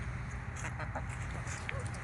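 Several chickens cluck softly and intermittently over a steady background hiss, with faint, scattered calls at a moderate distance, on a winter day.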